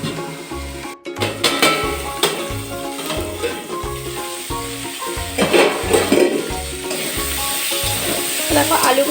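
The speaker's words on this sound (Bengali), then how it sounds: "দেখো আলু বেগুনগুলোকে ভালো করে ভাজা হয়ে গিয়েছে" Potatoes and eggplant fry in a pan with a loud, continuous sizzle and occasional stirring scrapes, while a steady rhythmic beat thumps underneath throughout.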